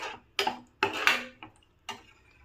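Curd being stirred in a pan on low flame for aloo kurma, giving a few scattered metallic scrapes and taps of a spoon against the pan, close and fairly quiet with gaps between strokes.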